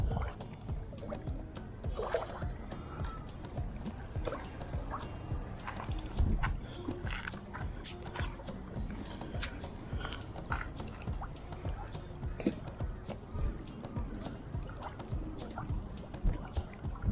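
A rowboat moves over the water at a fishing spot, with a continuous wash of sloshing water and scattered knocks of paddles and hull, fairly quiet and steady throughout, with no talk.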